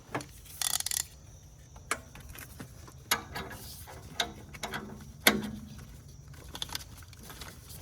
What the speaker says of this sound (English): Takes a 1/2 inch ratchet.